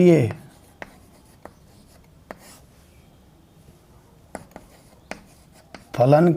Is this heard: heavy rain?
no